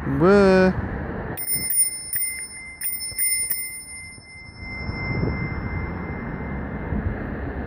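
A bicycle bell rings several times in quick succession, bright and close, after a brief voice, with traffic or engine rumble underneath.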